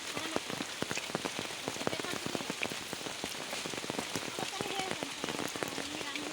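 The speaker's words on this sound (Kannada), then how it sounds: "ನೋಡಿ ಈಗ ಯಾವ ಥರ ಮಳೆ ಬರ್ತಾ ಇದೆ ಅಂತ. ಫುಲ್ ಜೋರು ಮಳೆ ಮಳೆ ಮಳೆ" Heavy rain pours down steadily, a dense, close patter of drops striking surfaces with scattered louder splats throughout.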